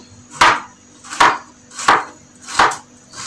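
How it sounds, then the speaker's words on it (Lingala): Steady knife chopping of onions and garlic on a board for a soup with spaghetti, five loud, evenly spaced cuts about a second apart, close up and alone. "Nazo kokata na kati deja matungulu, nazo kokata ail"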